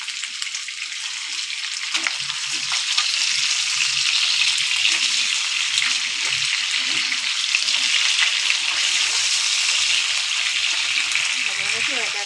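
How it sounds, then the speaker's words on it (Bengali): Pabda fish frying in hot mustard oil, a loud, continuous bright sizzle with fine crackling and spatter that holds steady for about twelve seconds. "পাবদা মাছগুলো সুন্দর করে ভেজে নেবো।"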